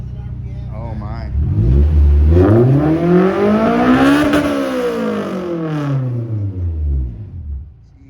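Honda S2000 engine revving hard up to about 9,000 RPM, a loud rising and falling howl with strong harmonics that sweeps up, peaks and winds back down over several seconds, with people reacting over it.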